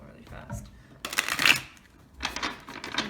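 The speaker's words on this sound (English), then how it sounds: "let's do a real shuffle really fast" A deck of tarot cards shuffled quickly in a riffling flurry, with two bursts of rapid papery flicks close by, while someone talks over part of it.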